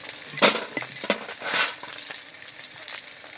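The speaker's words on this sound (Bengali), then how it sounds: "বিট ভাজা বসিয়ে দেবো এপাশে কড়াইতে" Beetroot frying in oil in a kadai, soft sizzling with a few louder crackling bursts and stirring scrapes near the start, then a quieter steady hiss.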